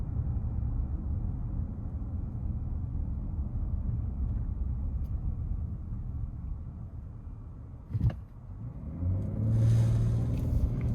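A 2026 Hyundai Palisade Limited's V6 engine rumbles low and steady, then revs up more strongly under throttle near the end after a brief knock or thump.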